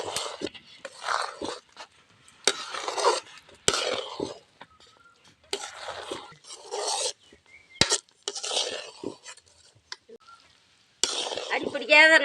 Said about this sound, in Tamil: அடி பிடிக்காத நல்லா கிளறிக்கிட்டே தான் அடி பிடிக்காத இருக்குது